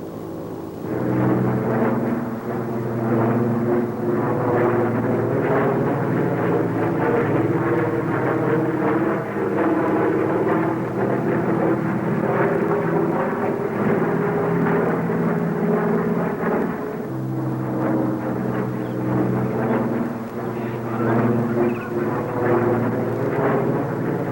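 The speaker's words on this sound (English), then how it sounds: "That plane is flying in the wrong direction." A plane flying overhead gives a steady, loud, continuous engine drone with layered tonal hum. It holds for the whole stretch, dipping briefly partway through, with no talk.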